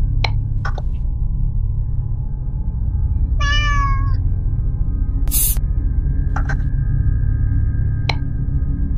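A cartoonish cat meow in the Five Nights with Bud video game, a single short harmonic mew rising out of a steady low background drone, with a few clicks and electronic beeps around it.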